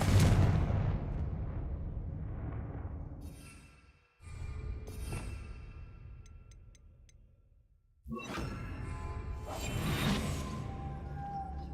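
In Hogwarts Legacy, a Confringo blast spell fires in loud booming whooshes, each swelling then fading, with three separate bursts in sequence and the last one crackling brightly.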